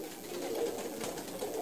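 Malwa pigeons cooing softly, a low murmuring coo over faint background noise, heard briefly without talk.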